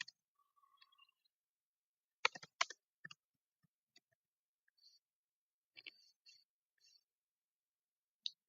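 A password is typed on a computer keyboard while setting up a virtual machine: sparse, quiet key clicks come singly and in short clusters, with silence between them.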